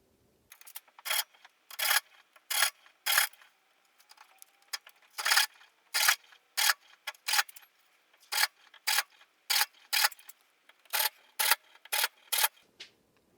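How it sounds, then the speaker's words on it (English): A hand saw makes a series of short, crisp rasping strokes while cutting the corners of a wooden block, in quick bursts with brief gaps between them, close and fairly loud with no talking. "I need to make some saw cuts. Here, here, here, and here on the corners"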